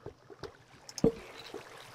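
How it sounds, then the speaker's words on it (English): Flowing water in a Minecraft cave gives soft, sparse trickling and gurgling, with a few small splashy bursts over a quiet background. "why is there so much flowing water down here?"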